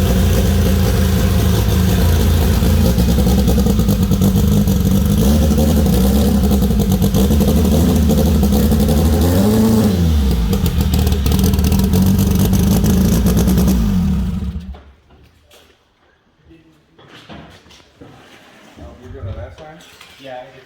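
A car strapped down on dyno rollers for tuning revs loudly and continuously with a strong, sustained engine roar and a brief pitch swoop, then cuts off abruptly, leaving quieter rattles and clinks.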